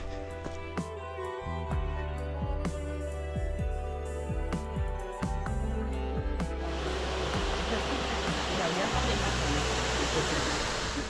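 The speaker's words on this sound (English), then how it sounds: "So that was the Cascades and a little bit along the creek." Water cascades along a creek in Clifton Gorge, Yellow Springs, during a spring hike, becoming a steady, broad rushing roar in the second half after an earlier stretch dominated by tonal sounds.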